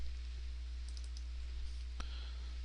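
Computer mouse clicking while routing a circuit board trace, a few faint light clicks and one clearer click near the end, over a steady low electrical hum, no talk.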